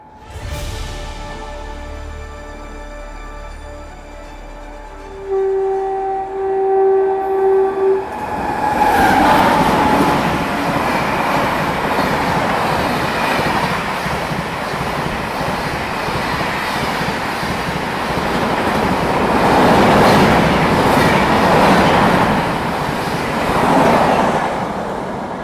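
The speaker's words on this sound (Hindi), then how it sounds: "बिल्कुल फ्लैट 130 की रफ्तार में एपी एक्सप्रेस जो है वो ओवरटेक कर गई।" An AP Express train overtakes through a station at about 130 km/h. A quiet platform with a steady tone gives way to a sudden, loud, sustained roar and rumble of the passing train that fills the rest of the clip.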